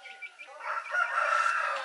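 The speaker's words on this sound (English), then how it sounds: "Andun yung chicken. I mean yung chick." A young chick at a countryside cottage gives a continuous stream of high, shrill peeping and clucking calls that swell louder toward the end, fairly close and with no talk.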